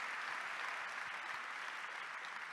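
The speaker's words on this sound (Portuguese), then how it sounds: "Acho que os aplausos respondem." Audience applause at a talk event, a dense, steady wash of many hands clapping that stays at an even level for the whole stretch with no voices.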